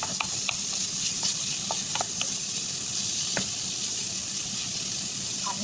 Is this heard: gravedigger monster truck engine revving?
no